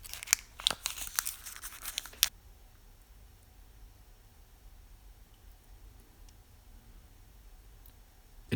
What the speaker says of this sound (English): Let's unwrap it.